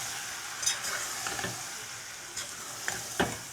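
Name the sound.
stirring spice masala frying in a pan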